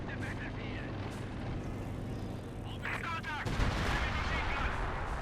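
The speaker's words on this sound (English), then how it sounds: "Machine guns blasting away at the MG crew" Machine guns fire in the real-time strategy game Company of Heroes 2, dense rattling bursts and battle noise running under continuous commentary talk.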